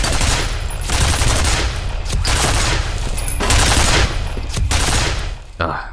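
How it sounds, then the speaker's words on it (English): Automated security guns in the FEAR video game fire at the player in loud, sustained bursts, with rapid shots and thumping impacts running almost without a break and cutting off sharply at the end. "these bullets keep making that thumping sound like I'm getting hit, but I'm not."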